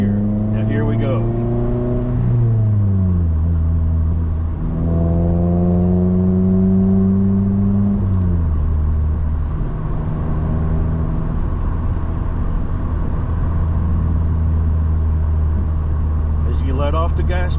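A car engine revs during a rev-matching demonstration on a scenic road, the pitch climbing and falling through several swells, with a steady loud drone continuing between shifts throughout.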